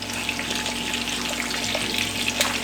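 Jamaican steak sizzles steadily and close in a hot pan as it is flipped, a constant bright frying hiss with small crackles and no voices.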